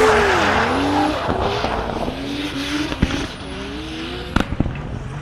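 NASCAR Brasil race cars at Londrina scream past near the wall, engine pitch sweeping down as each passes, with tire squeal and sharp pops as they go by.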